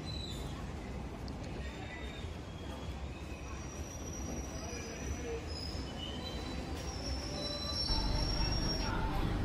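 Uttarbanga Express passenger train running on rails between New Cooch Behar and New Jalpaiguri, a steady rumbling roll with thin wheel squeal on top, swelling louder near the end.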